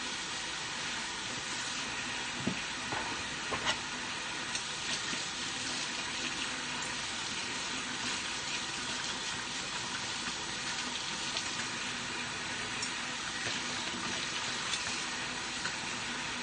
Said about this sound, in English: we're just gonna rinse all this stuff out